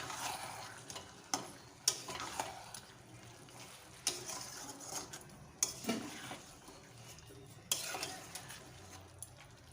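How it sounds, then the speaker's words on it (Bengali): Boiled lentils being stirred into spices in a pan for muri ghonto, a steady run of scrapes and clacks of the utensil against the pan at an irregular rhythm, with soft frying hiss beneath and no talk. "আর একটু ভালো করে সব মশলাগুলোর সঙ্গে ডালগুলো একটু মিশিয়ে নেব"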